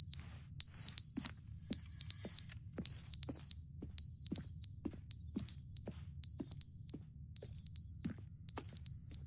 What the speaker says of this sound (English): Where's that beeping coming from?